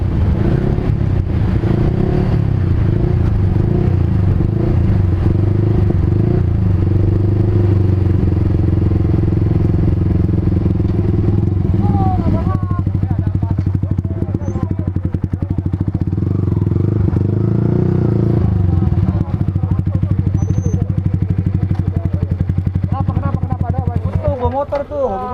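A motorcycle engine runs loud and close with a steady low drone that holds for the whole stretch and shifts pitch slightly midway, while voices talk faintly over it.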